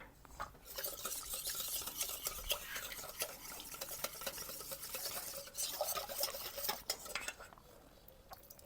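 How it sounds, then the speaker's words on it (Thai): Rice-flour dough stirred with a little vegetable oil in a pan over low heat until it turns clear, for old-style sweet dumplings with black sesame filling. Steady scraping and clinking of a utensil against the pan runs throughout with no talking. "วนไปจนแป้งเราสุกใสนะคะ"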